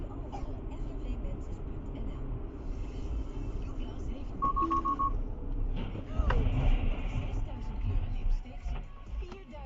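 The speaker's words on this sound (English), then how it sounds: "There's a moment in the video where you hear a beep. The beep is the first moment that the car detects something is wrong" Inside a Tesla during a serious road accident, a single short, clear electronic warning beep sounds from the car's automatic braking system. It cuts through steady road and engine rumble captured by the dash cam.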